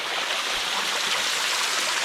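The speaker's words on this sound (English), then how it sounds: "There's some more water." Stream of water flowing along the Indian Creek canyon trail, a steady close rushing and trickling wash with no voices.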